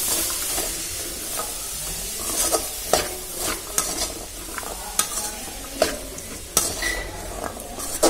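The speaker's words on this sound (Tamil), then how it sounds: "இதை நான் மிக்ஸ் பண்ணி விட்டுட்டு ஒரு 2 நிமிஷம் இந்த இதுலேயே வதங்கிட்டு இருக்கட்டும்" Mixed vegetables for veg kurma stir-fry in a pan, a continuous sizzle broken by repeated scraping and clanking strokes of a spoon against the metal, close and fairly loud, without speech.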